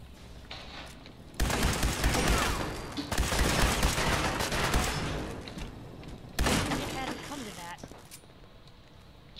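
A frag grenade going off in Fallout 4 amid gunfire: loud bursts of blast and shooting in several surges, with quieter stretches between and a voice speaking over the action.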